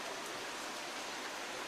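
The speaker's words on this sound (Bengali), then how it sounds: "যে বাইরে প্রচন্ড বৃষ্টি হচ্ছে।" Heavy rain pours outside, a dense, even hiss of falling water heard steadily and at a moderate distance, with no voices.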